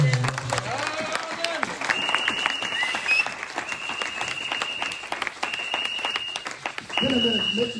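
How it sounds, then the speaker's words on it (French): A church congregation claps together during a Sunday service, a dense crowd applause running throughout, with a voice speaking over it and a tonal sound rising near the end. "Est-ce qu'on peut applaudir?"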